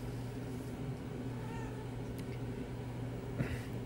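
A house cat meows nearby in a quiet room with a low background hum. There are a couple of short, moderately faint meows, one midway and one near the end.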